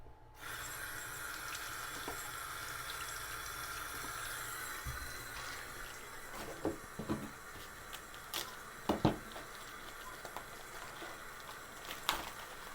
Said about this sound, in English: now I'm going to get these yellow squashes ready. I'm going to give them a rinse.